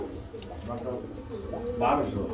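Pigeons cooing at a busy pigeon market, low throaty coos with a few chirps, close by, under someone talking.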